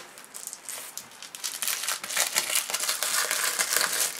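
Designer paper from a Stampin' Up Broadway collection being unpacked and handled, giving continuous close crinkling and crumpling that builds louder after the first second, with no talking.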